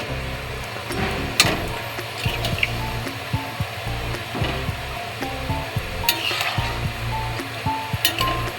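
Boiled pea water poured into a pot of mutton curry, a steady splashing pour mixed with repeated metallic clinks of a utensil against the pot, close up and fairly loud throughout.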